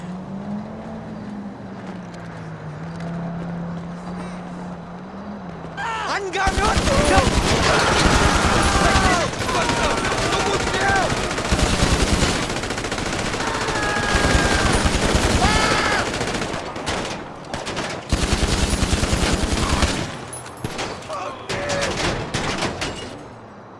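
Gunfire during a GTA Online bank heist, long stretches of dense automatic shooting in sustained volleys with brief gaps, mixed with engine and vehicle noise and shouted voices.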